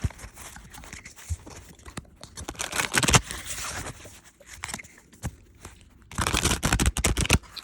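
Tarot cards being shuffled, a run of quick papery riffles and flutters in close detail, with louder bursts near the start and again toward the end.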